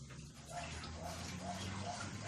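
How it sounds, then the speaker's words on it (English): Steady rushing of tap water rinsing a rusty cast iron Dutch oven during cleaning, a continuous quiet gush with faint sloshing throughout. "I'm going to rinse this out real quick"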